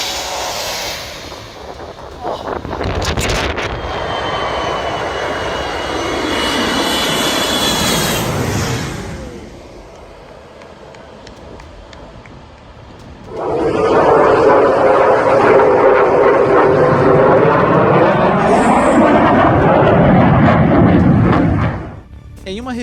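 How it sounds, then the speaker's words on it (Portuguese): An Airbus A321 jet descending to land at Skiathos airport over a beach, its engines roaring loudly as it passes close overhead, fading, then a second strong surge of engine roar before cutting off, with a voice speaking over it. "A321 desce em direção à pista do aeroporto de Skiathos"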